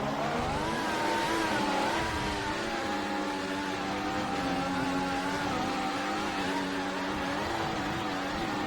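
Formula 1 race cars lap the Monaco street circuit in a racing video game, giving a continuous high-pitched engine whine that rises and falls as the cars rev, loud and unbroken throughout.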